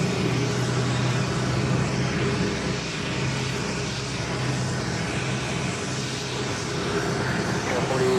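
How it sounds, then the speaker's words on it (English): An Airbus A330-300 airliner is pushed back at JFK airport, heard as a steady, fairly distant drone of engine and ground-equipment noise with a low hum running evenly under faint background activity. "Pushing it back. It's A330-300 here momentarily."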